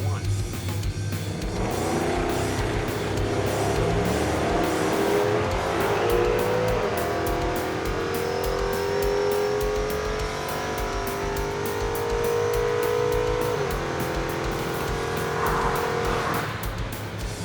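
Muscle trucks drag race side by side, engines roaring at full throttle with rising gear-shift sweeps and tire squeal as one truck goes sideways on the 1-2 shift, loud and continuous.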